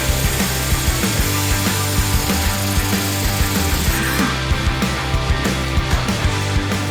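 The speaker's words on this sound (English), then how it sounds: "we have a 19mm socket with impact gun" An impact gun fitted with a 19mm socket removes lug nuts from a car wheel, making a loud, continuous hammering rattle close by with steady rapid ticks throughout and no talking.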